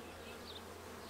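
A low, steady insect hum of honeybees buzzing close by at their hive, quiet and continuous over a short moment.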